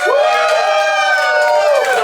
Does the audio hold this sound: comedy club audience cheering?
yes